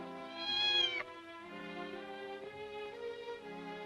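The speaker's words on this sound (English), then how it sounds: "Don't you cross my path, you old black cat." A black cat meows loudly in a long, rising harmonic cry, then trails into a lower, drawn-out second meow, close and alone with no talking.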